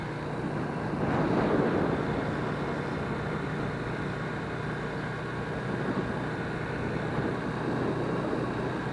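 A Lifan KP Mini 150 motorcycle is ridden along a road, a steady engine drone heavily mixed with wind rush at a constant, moderate level, with no talking.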